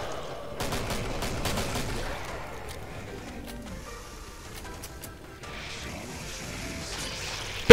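Rapid gunfire from dual hand cannons in the shooter game Killing Floor, a quick burst of sharp shots early on, then quieter game sounds and background noise.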